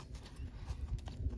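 In a round pen, a horse's hooves land in a few soft, low thuds, faint and brief, with no other sound.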